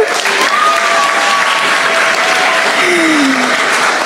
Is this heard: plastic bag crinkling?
no